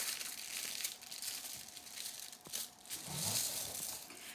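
Aluminium foil being folded in half and creased for a scarecrow head craft, a close, soft run of crinkling and crackling with a brief sharper crunch near the middle, fairly quiet throughout.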